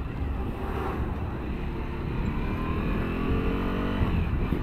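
A Suzuki V-Strom 1050 DE motorcycle cruising on a highway, a steady low engine drone buried under heavy rushing wind noise on the microphone, constant throughout.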